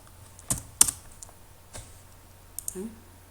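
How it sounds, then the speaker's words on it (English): Keyboard typing on a computer: a few sharp, isolated key clicks spaced irregularly over a quiet background, including a louder pair early on and a short cluster near the end. "So the first thing you do is type whoops."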